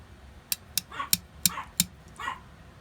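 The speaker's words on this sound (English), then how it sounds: "Doggy's yelling at me." A dog barks in a quick series of about five sharp, fairly close barks over low room noise, with a softer yelp or whine trailing at the end.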